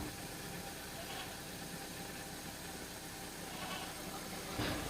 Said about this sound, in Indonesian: untuk kondisi mesin, untuk suara mesin semuanya kondisinya normal ya teman-teman